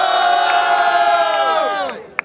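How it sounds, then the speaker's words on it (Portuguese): A crowd at a rap battle in Guarulhos, SP cheers and shouts loudly in one sustained roar that gradually fades, ending with a brief sharp clap or pop. "Barulhos pra quem gostou mais das rimas do Barreto"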